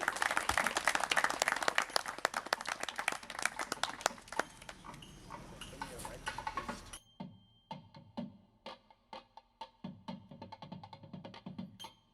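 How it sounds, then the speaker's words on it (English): Guests at a Hindu wedding ceremony applaud the groom with a full burst of clapping that cuts off abruptly, leaving a few scattered, sparse claps trailing afterward. "Can we give him a round of applause?"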